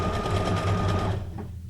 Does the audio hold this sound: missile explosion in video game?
no